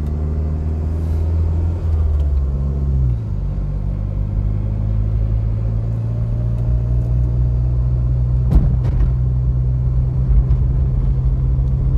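Car driving along a bumpy mountainside road in St. Elizabeth, Jamaica, heard from inside as a loud, steady engine and road rumble, with a shift in engine tone early on and a single jolt partway through.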